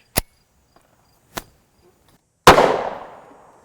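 Three sharp reports from a 9x19mm pistol with a 3-inch barrel firing 100-grain JSP law-enforcement ammunition, spaced over a few seconds; the first two are short cracks and the last is louder with a lingering tail.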